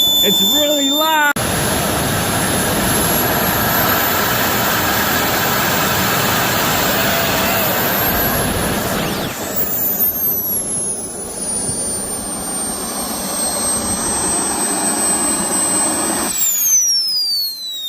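Small RC jet turbine engine runs with a loud, close roar and high whine, easing to a lower, slightly quieter spool partway through before a sharp cut near the end.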